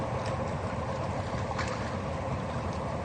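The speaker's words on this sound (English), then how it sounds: "I can tell exactly where the boats are from the noise of the engine." A steady low engine drone with a churning, rumbling texture holds continuously throughout, like a boat motor running at a distance at night in Cambodia, with no voices.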